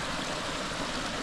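A small mountain stream tumbling over a tiny waterfall near Natukhaevskaya, a steady broadband rush of running water, close and continuous, with no voices.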